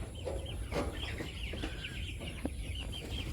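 Village chickens clucking near a chicken house, several soft overlapping clucks and short calls, fairly close, over a low background hum.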